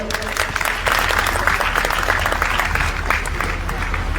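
A satsang audience claps together in sustained, dense applause, steady and fairly loud throughout, with faint murmuring voices underneath.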